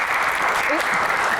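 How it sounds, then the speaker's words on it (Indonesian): A dense wash of applause from a studio audience at a talk-show Q&A, steady and fairly loud throughout the short moment with a faint voice briefly underneath. "tepuk tangan"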